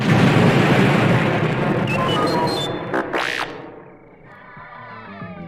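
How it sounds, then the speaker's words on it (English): A dense, loud rumbling blast of the Death Star's chain of explosions from a Star Wars: Return of the Jedi read-along record fills the opening seconds, with sweeping whooshing tones sliding through before the roar fades into a crackling tail. "The Death Star rocked with a chain of explosions."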